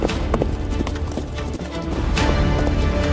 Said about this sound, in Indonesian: Derap langkah kuda menggetarkan seisi hutan.